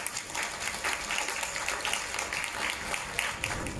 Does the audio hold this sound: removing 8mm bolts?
no